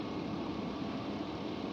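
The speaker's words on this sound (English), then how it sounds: "Sounds like a typical Vortec V8 from Chevy." A 150k-mile Chevy Suburban's Vortec V8 idles with the hood open, a steady, even low rumble with a broad hum and no revving or talk.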